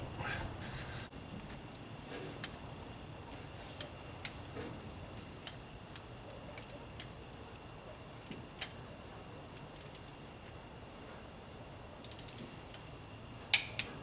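A torque wrench tightens the spark plugs on a small block Chevy, faint close ratcheting clicks and small mechanical ticks spaced irregularly over a quiet background, with one sharper click near the end.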